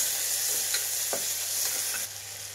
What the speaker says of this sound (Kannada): ಸಣ್ಣದಾಗಿ ಹಚ್ಚಿರೋಂಥ ಈರುಳ್ಳಿ ಹಾಕ್ತಾ ಇದ್ದೀನಿ